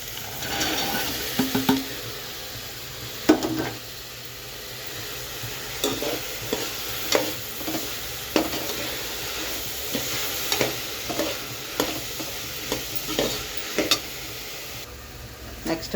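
Chopped carrot, beans and peas stir-fry in a pan, with a steady sizzle broken by repeated spatula scrapes and clinks at a close, even rhythm.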